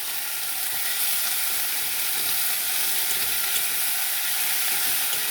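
Chopped Malabar spinach sizzles in a frying pan with fish head and a little oil, giving a loud, steady, close hiss with faint crackles throughout.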